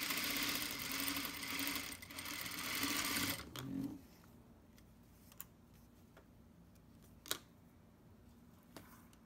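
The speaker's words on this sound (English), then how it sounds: "I'm going to sew with the 3/8 seam allowance." A sewing machine stitching a 3/8 seam on a small fabric bow tie, buzzing steadily and loudly for about four seconds before stopping, followed by a few faint clicks and one sharp tick.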